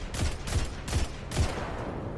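Gunfire in the video game Destiny 2: several sharp weapon shots, four distinct bursts spaced roughly evenly with booming low end, loud and close over a steady game background, no talking.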